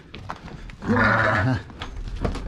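Lambs and goats bleat close by in a farm pen, one clear drawn-out bleat standing out over shuffling and background livestock noise.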